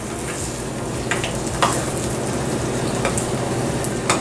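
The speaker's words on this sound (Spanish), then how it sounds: "Mis nances están cociendo en este aceite." Nance fruits frying in hot oil for a mole with quail, a steady close sizzle with soft crackles and occasional pops, no voices.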